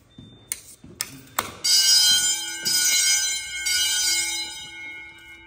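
An electronic fire alarm bell in a 1964 middle school starts after a few sharp clicks, then rings continuously and loudly with a steady metallic tone, pausing briefly before resuming during alarm testing.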